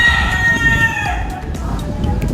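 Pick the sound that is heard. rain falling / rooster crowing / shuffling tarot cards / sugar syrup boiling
rooster crowing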